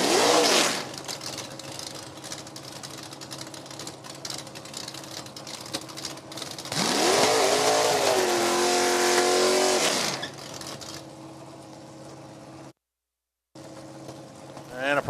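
At a drag strip, a mono wing dragster and a 69 Camaro roar with loud racing engines, rising revs sweeping into a long full-power run, while an announcer talks throughout.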